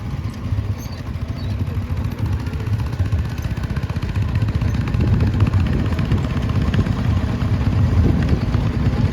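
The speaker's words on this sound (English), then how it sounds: "it's the horsepower, 4-cylinder Nuffield just on past" A 4-cylinder Nuffield tractor at the Driffield steam rally chugs past with a low, steady rumbling engine note. The engine is fairly loud, slightly louder toward the end, and there is no talk over it.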